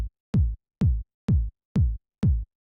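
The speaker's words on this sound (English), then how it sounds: "Up next we have the drums, starting off with this kick." A punchy house kick drum sample thumps six times in a steady four-on-the-floor pulse, each hit deep and boomy with a quick decay and clean silence between.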